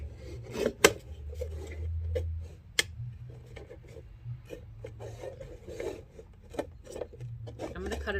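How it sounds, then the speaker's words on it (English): Scissors cut around a plastic container, giving close, intermittent crunching snips and scraping rubs with uneven gaps, over a low background hum and faint voice. "I'm going to take my scissors and I'm just going to cut all the way around"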